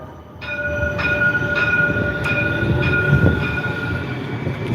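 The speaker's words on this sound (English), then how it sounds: "The little choo-choo train in the city of Cincinnati." A small city train in Cincinnati rolls past nearby outdoors, a steady rumble and clatter with sustained high wheel squeal tones running throughout, loud and continuous with no talking.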